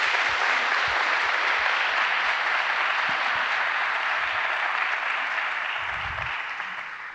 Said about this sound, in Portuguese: Uma salva de palmas a Ana Cecília Tavares.